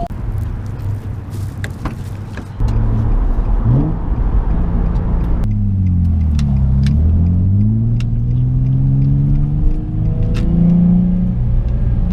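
A Nissan 350Z with failing clutch hydraulics idles with a low rumble, then its engine revs and falls repeatedly, loud and close inside the car.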